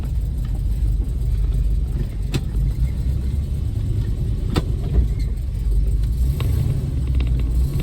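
A 1972 Plymouth Road Runner's V8 engine runs steadily on a test drive, a loud continuous low rumble and road drone with a few brief clicks and no talking.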